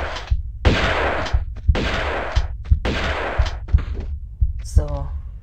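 Bursts of gunfire in Tomb Raider 2, three long rattling volleys broken by short gaps and sharp single thumps, loud and near, with a brief voice near the end.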